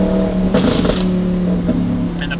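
Audi R8 V10 with a Valvetronic Designs F1 exhaust idling loud and close, a deep steady drone broken by a short burst of crackling pops near the middle and a few faint snaps at the end.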